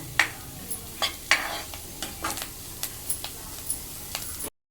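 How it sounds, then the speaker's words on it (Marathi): Vegetables for a vegetable soup being sautéed in a pan: a series of distinct spatula scrapes and stirring strokes at an uneven rhythm over a light, steady sizzle, close by, with no voices. "आता हे जरा चांगलं परतून घेऊया"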